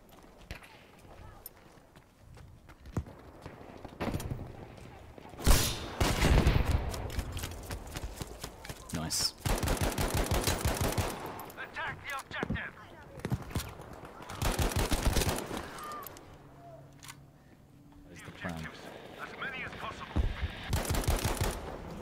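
Gewehr 1-5 rifle fire in the Battlefield 5 video game rings out in quick, loud semi-automatic bursts and single shots, mixed with other battle noise while a player talks over it.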